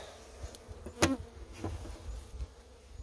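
Honeybees buzzing around a hive with a low, steady hum, close by, with a few brief louder passes and some handling knocks.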